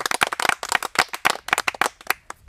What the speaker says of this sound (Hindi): हमारे दर्शक इतना खुश है इतना तेज ताली बजा दिए हैं